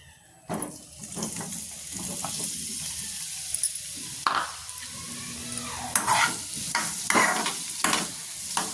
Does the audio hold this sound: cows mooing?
no